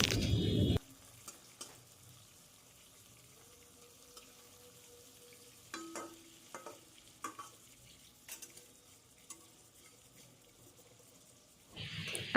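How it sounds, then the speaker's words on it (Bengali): Leaf-wrapped fish-roe paturi frying in a pan on low flame gives a faint, steady sizzle broken by scattered light clicks from turning. Louder bursts of noise come at the very start and end. "লো ফ্লেমে ভালোভাবে ভেজে নেব, যাতে ডিমগুলো ভালোভাবে ভেতরে হয়ে যায়।"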